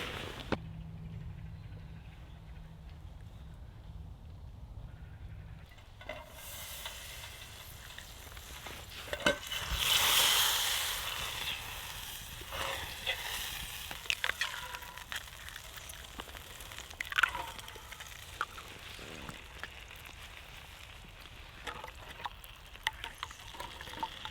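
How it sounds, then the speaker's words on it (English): Eggs cooking in a titanium camping pan on a rainy night of tent camping, a soft steady sizzle with scraping stirring sounds, a louder burst of frying partway through, then continued crackling and occasional clicks. "Much better doing scrambled, if you're doing eggs in these like titanium ones, to just scramble them rather than try and fry them"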